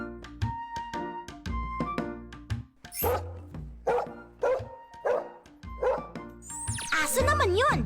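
A dog barks repeatedly in short bursts at a moderate distance, mixed with musical tones and a few squeaky sounds.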